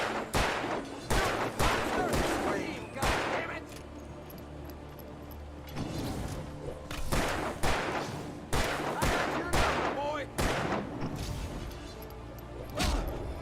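Gunfire in Alan Wake Remastered on nightmare difficulty: repeated loud bursts and volleys of shots scattered across the stretch, some rapid and clustered, over a steady game ambience with faint voice sounds.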